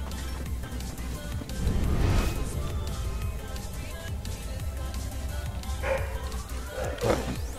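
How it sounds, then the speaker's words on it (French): A pet dog yips and barks a few times in a home, faint and intermittent, over a continuous background hum with no talking. "si vous entendez mon chien"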